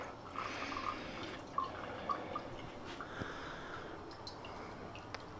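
Old fuel drips from a removed fuel tank of a 1966 Ford F250, faint scattered drips and small splashes over a quiet low background, close but soft, with no talking.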